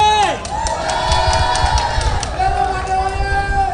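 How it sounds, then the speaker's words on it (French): Crowd at a presidential campaign rally in Mamou, Guinea, cheering and shouting in a dense, roaring mass with whoops and chant-like voices over a heavy, rumbling background. "Applaudissez!"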